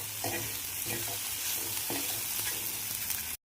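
Okra being sautéed with spices in a pan for a Marathi bhindi bhaji, a steady sizzle and fry with a few scraping stirs of a spoon, close and continuous without talk.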